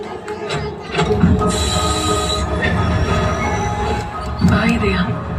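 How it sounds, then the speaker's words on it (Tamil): A train rumbles along with high metallic wheel squeals rising over it, while people talk nearby. "டைம் ஆச்சு, ட்ரெயின் கிளம்ப போகுதுன்னு நினைக்கிறேன்"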